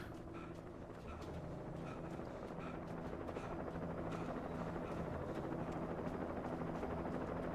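Steady, loud helicopter rotor drone in a video game, a continuous low thrumming whir with faint rhythmic chopping that stays constant and close throughout, with no talk over it.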